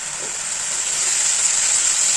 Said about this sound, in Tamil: இந்த சூட்லேயே அது வதக்கிடும் பாருங்க